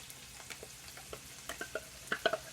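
Ranch style beans being stirred into browned ground beef and onion in a pan, a soft wet sizzle under a series of scraping, clacking spoon strokes, irregular and close, louder near the end, with no talking.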